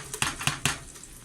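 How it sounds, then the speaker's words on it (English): Diced onion dropping into a hot cooking pot for okra stew, giving three quick clattering hits with a brief sizzle close by, then quiet. "the cooking pot is hot, so I'm going to go ahead and add the onion that I diced"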